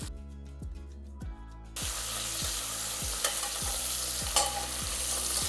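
Thinly sliced onions and curry leaves frying in oil for tomato rice, a regular run of stirring scrapes over a sizzle that swells loudly when the onions go in partway through, with no talking.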